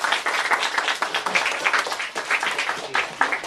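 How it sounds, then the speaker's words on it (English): An audience at a school event applauds Labour Party candidate John Martin, with brisk, uneven clapping that swells and dips and carries on without a break. "Let's give a round of applause first to John Martin from the Labour Party"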